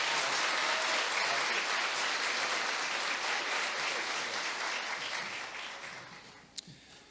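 A crowd claps steadily in sustained applause that gradually tapers off, ending with a single sharp clap.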